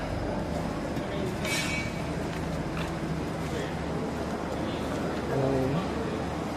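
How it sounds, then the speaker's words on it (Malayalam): The Amritha Express rolls into Rameswaram station with a steady, loud rumble of wheels on rails, a few metallic clinks and a short wheel squeal near the end, with muffled voices beneath. "അങ്ങനെ നമ്മുടെ അമൃത എക്സ്പ്രസ് അങ്ങനെ രാമേശ്വരത്ത് എത്തിയിരിക്കുകയാണ്"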